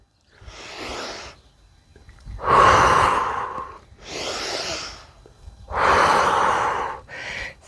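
Slow, deep breathing during a home yoga and calisthenics workout alternates soft inhales with louder, rushing exhales in a steady rhythm, close up.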